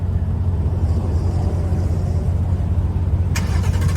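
Mustang GT 5.0 with a loud aftermarket exhaust, a deep, steady rumbling idle just after starting, with a brief sharp blip near the end, close and loud.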